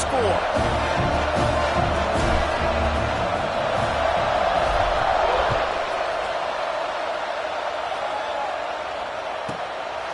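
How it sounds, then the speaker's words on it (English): A college football stadium crowd at Nebraska versus UCLA buzzes with loud, sustained roar and cheering after a touchdown, fading slightly, with a commentator talking over it. "this crowd is buzzing after that last"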